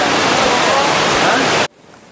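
The Kotthapalli waterfall pours with a dense, loud, steady rushing roar that fills the clip, then cuts off abruptly after under two seconds.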